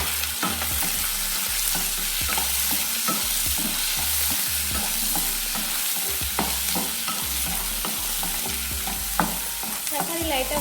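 Tomatoes sauté in a pan for ivy gourd chutney, a steady close sizzle broken by frequent scraping stirs, with no talking.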